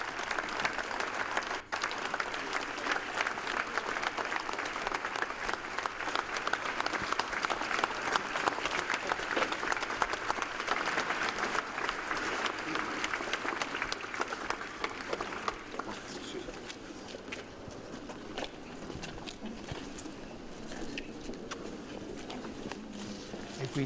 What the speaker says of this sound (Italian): Un lunghissimo applauso da parte della folla che gremisce la piazza del